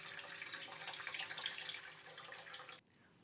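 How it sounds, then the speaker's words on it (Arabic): Water runs from a tap into a pot meant for heating on a gas stove, a steady close splashing stream with no talk that stops abruptly near the end. "بنجيب أي شي بينغلى فيه مي على الغاز، بنحط كمية مي"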